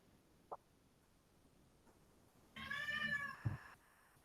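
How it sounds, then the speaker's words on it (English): A house cat meows once, a clear drawn-out call of about a second, loud and close in an otherwise quiet indoor room, preceded by a brief soft knock. "That's my cat. I don't know if you could hear it."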